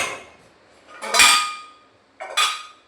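Old damaged pots and a mixer jar are handled at home, giving two separate bursts of metallic clattering and clinking, close and fairly loud, with quiet pauses between.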